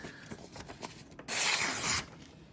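A brand-new Spyderco Tenacious Lightweight knife blade slicing through material in a quick cut test: soft rubbing strokes followed by one longer, louder hissing slice near the middle, close and clear.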